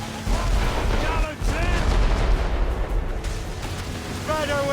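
Ship cannon fire in Assassin's Creed Rogue, heard as a dense run of heavy booming blasts across a naval battle, with shouting voices mixed among the explosions throughout.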